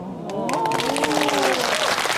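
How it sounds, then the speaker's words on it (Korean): Brief, thin applause comes from a small audience at a Buddhist dharma talk, a patchy patter of claps running under a speaking voice. "박수를 치긴 치는데 좀 시원찮네"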